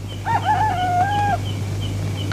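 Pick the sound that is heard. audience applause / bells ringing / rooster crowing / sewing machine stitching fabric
rooster crowing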